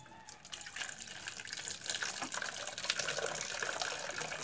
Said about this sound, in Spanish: lo que necesitamos es echarle agua a la caneca,